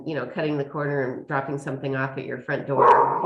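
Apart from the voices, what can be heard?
dog barking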